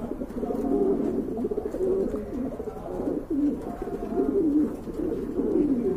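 Pigeons in a breeder's loft, with a male repeatedly cooing in rising and falling phrases, close and fairly loud, with soft rustling underneath and no talk.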